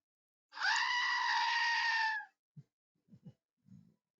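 A goat screams in one long, loud, wavering yell lasting about two seconds, followed by a few short, quieter thumps and knocks.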